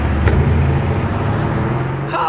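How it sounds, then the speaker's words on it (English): An orange Lamborghini Urus SE passing by outside the Lamborghini factory, a loud steady low engine and road rumble with traffic noise throughout. "Oh, another orange Urus SE."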